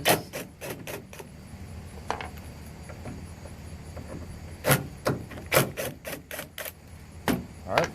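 Hex head screws come out of a 2005 Dodge Dakota tailgate, heard as bursts of quick, close scraping and clicking from a tool on metal, with quieter gaps between them.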